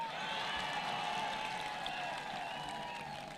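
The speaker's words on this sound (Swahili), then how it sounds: "Wapi makofi ya Josephine?" An audience at a thanksgiving service claps steadily for Josephine, a dense, even applause that holds at moderate distance throughout with no voices over it.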